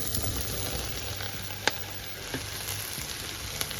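Onions and mushrooms fry in a pan for a quick cream of mushroom soup, with a continuous close sizzle and a couple of sharp utensil clicks.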